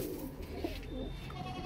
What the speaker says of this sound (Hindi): बहुत नया कबूतर है